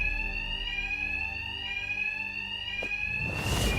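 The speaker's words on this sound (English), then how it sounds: "Two-Face's thugs won't hear me over the alarm." A bank alarm rings in the video game Batman: Arkham Knight, a loud continuous electronic bell tone with steady harmonics, ending in a burst of noisy game effects.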